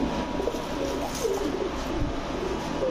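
A pair of black-tailed Gorra pigeons coo softly nearby, low rolling calls repeating over a constant background hum.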